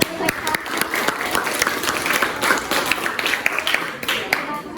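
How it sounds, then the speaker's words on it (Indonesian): A classroom audience applauds after a student group presentation, with a burst of many hands clapping at close range over the whole stretch and voices murmuring underneath. "Beri aplaus untuk"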